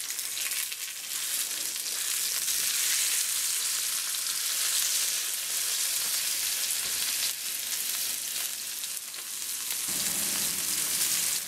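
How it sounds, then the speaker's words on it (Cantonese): Rack of lamb pan-seared in oil until golden on every side, a steady loud sizzle and hiss throughout with a brief shift as the meat is turned. "我哋將4面都要煎到金黃嘅"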